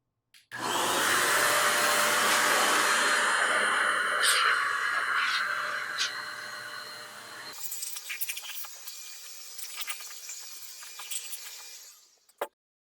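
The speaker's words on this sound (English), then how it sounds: "probably use the data vac while I'm waiting as well on this PC" A DataVac electric duster blows out a PC with a loud, steady high-pitched whine that runs for about seven seconds, then continues with softer, fluttering bursts before stopping abruptly.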